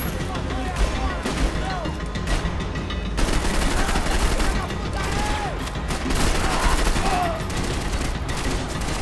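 Rapid gunfire bursts and scattered shots ring out from a shootout in the video game Max Payne 3, loud and continuous with crackling impacts throughout.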